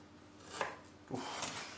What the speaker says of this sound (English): This is going to be one of the highest rated chopping videos you've ever seen.